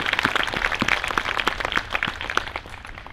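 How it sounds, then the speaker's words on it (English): An audience applauds at a university faculty and staff gathering for Palestine, a fairly quiet, sparse ripple of individual claps throughout with no talking over it. "give them a round of applause"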